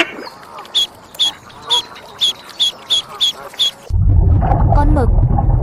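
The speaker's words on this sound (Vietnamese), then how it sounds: "Con ngan" A Muscovy duck calls about nine times in short, evenly spaced bursts, clear and close, before a louder, rumbling, unrelated sound abruptly takes over.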